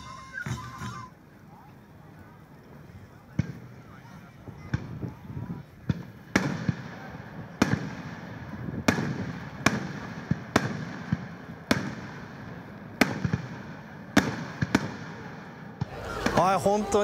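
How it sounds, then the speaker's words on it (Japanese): A festival-finale fireworks display with a series of sharp booms and crackles at irregular intervals, fairly loud, with faint crowd voices in the background. "お祭りのフィナーレに花火大会が無事開催されることになりました"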